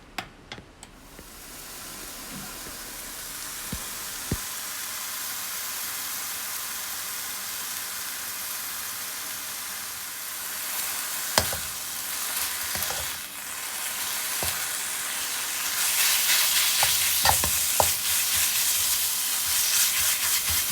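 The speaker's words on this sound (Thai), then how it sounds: "เอาหมูลงไปในกระทะนะคะ ใช้ไฟกลาง" Pork for Thai basil stir-fry, cooked with a splash of water and no oil, sizzles steadily in a pan over medium heat, with occasional sharp clinks of the spatula and a louder burst of hissing near the end.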